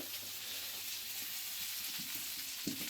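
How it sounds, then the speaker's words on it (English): Cumberland sausages sizzle steadily in a home kitchen pan, a continuous crackling fry with a few brief louder pops, moderately close and without talk. "He's cooking proper sausages."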